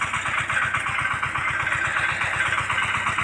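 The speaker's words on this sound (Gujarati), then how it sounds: "હાલ અત્યારે તુવેરમાં જો દવા મારવાનું ચાલુ જ છે." Sprayer engine runs while spraying a pigeon pea field, a steady, fast low putter with a rough droning hum, close and continuous, no voices.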